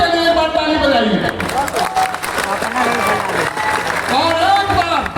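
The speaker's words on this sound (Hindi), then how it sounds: "आप लोग एक बार अपने लिए खुद के लिए बार ताली बजाइए" Rally crowd claps steadily and loudly throughout, with cheering and shouting voices rising over the applause.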